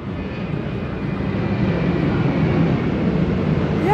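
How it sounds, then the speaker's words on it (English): A plane taking off near a Gold Coast recycling site gives a steady, broad jet-engine roar that swells slightly louder over four seconds, with no talk over it. "Plane taken off."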